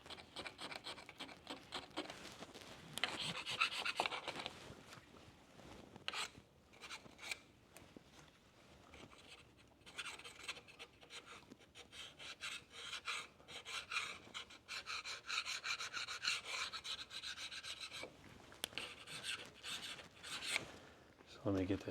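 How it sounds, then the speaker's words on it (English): A carbide scraper rasps over the metal clutch housing of a Deutz DX160 tractor, giving steady, close scratchy strokes that continue almost throughout with brief pauses between passes. "Cleanup, I like these carbide scrapers."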